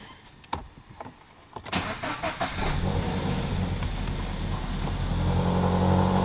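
A Toyota GT86 engine cranks briefly and fires up, then settles into a steady idle after a few clicks and rustles, close and fairly loud.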